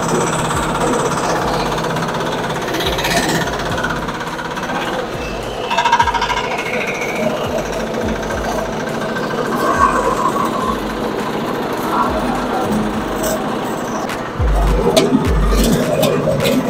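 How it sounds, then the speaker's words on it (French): A motor-driven palm nut oil press, loaded with pre-cooked palm nuts, chugs loudly and continuously with a rapid mechanical hammering rhythm, holding steady for the whole stretch and rising a little near the end. "on va démarrer le moteur et on démarre le moteur maintenant"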